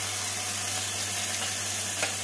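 Spices and green chilli paste fry in a pan for soya and cabbage curry, giving a steady, even sizzle with a constant low hum underneath and no talk.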